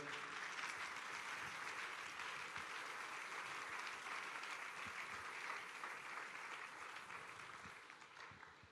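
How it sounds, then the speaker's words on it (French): A church congregation applauds steadily, a dense even wash of clapping heard at a distance that fades slightly at the close. "on acclame très fort pour la parole du Seigneur"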